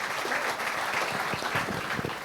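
An audience at the Maharashtra Business Conclave 2024 applauds, a steady dense patter of clapping for about two seconds with no voices over it.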